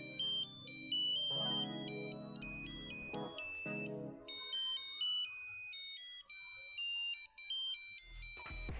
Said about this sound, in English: So there's a built-in library of available ringtones to choose from.